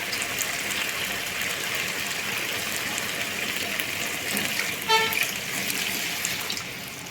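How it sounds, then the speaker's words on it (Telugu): Water is poured into a chicken curry, making a steady rushing gush close by, with a brief tonal honk near the middle. "ముక్క మునిగే వరకు వాటర్ పోసుకోవాలి."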